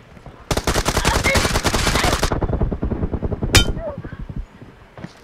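Rapid automatic gunfire in a team deathmatch shooter game, a dense close burst of shots for about two seconds followed by scattered single shots and a sharp ringing clang, with no talk.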